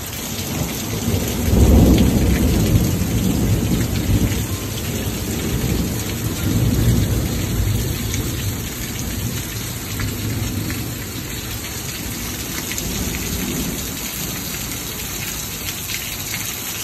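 Heavy rain pours down steadily in a thunderstorm, with a loud thunder rumble early on and further rolling thunder beneath the dense, constant hiss of rainfall close by.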